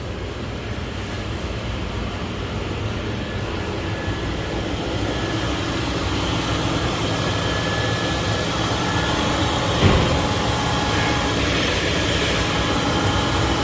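2000 Lincoln Town Car engine running after a fuel pump fix, a steady low rumble with a faint whine, continuous and fairly loud with a brief knock near the end, no talk.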